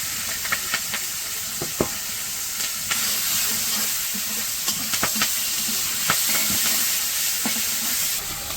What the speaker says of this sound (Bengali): তো পেঁয়াজটা যখন একটু ভাজা হয়েছে